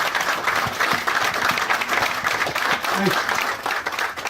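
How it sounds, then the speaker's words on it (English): A crowd outdoors at a ground breaking ceremony for a car dealership applauds steadily, with voices mixed into the clapping throughout. "Don't clap too much, it's hot."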